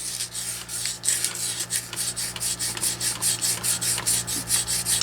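Sandpaper of 320 grit rubbed back and forth over a plastic monster figure, a steady run of quick, even raspy strokes close to the mic, with no voices over it.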